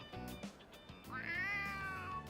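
A cat in the video game Persona 3 Reload gives one drawn-out, rising and falling meow, clear and close, with no talking.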